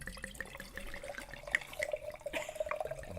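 Close, gurgling pour of mead into a glass, a run of bubbly glugs that grows busier toward the end, alone with no talking.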